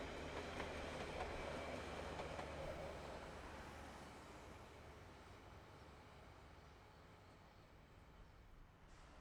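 An empty coal train hauled by two diesel locomotives rolls past at Mercer, a loud, steady rumble of wagons and wheels on rails that gradually fades as it moves away, with no talking.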